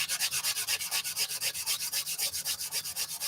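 Steady back-and-forth sanding of 3M green glazing putty, a rhythmic raspy rubbing stroke repeating about six times a second, close and alone with no talk.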